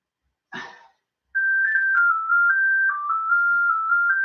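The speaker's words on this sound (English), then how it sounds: "That's my landline. Nobody ever calls me on my landline." Landline telephone ringing indoors as a steady electronic warble that holds for several seconds, after a short cough-like noise and a brief silence, with no talking over it.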